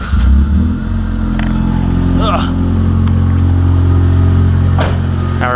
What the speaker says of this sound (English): we're officially ready to start the car